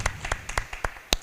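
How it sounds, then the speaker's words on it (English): Sparse applause at a Startup Europe Week event in Sofia: about seven distinct claps, spaced roughly a quarter second apart and fairly crisp. It sounds like only a few people clapping, with no voices over it. "Applause for Nadia."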